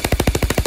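An E&C 204 G28 airsoft AEG rifle fires a quick full-auto burst of about eight rapid, evenly spaced cracks, close and loud, lasting under a second.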